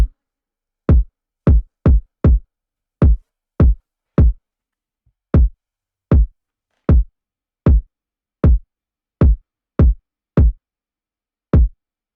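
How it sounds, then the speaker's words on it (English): Trap kick drum in a simple, sparse sad beat: about sixteen short, deep, booming kicks in an uneven programmed rhythm, one faint hit among them, dry and loud with silence between, no other sounds. "so for the kick, I used the trap kick"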